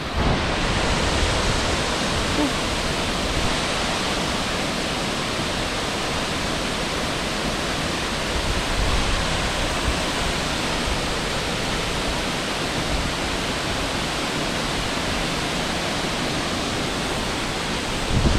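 Steady, dense rush of falling water, broadband and unbroken throughout, like a nearby waterfall on Sumba, Indonesia roaring without pause.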